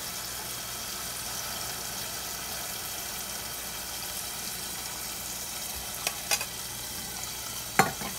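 Salmon fish curry gravy simmers with a steady, even hiss after spiced water is added, and a few sharp clicks and clinks come near the end. No one speaks.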